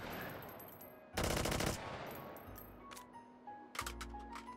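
A bullpup rifle fires in Hot Dogs, Horseshoes & Hand Grenades VR, a sharp burst of rapid automatic shots, then scattered single cracks and metallic clicks, close and loud against quiet gaps.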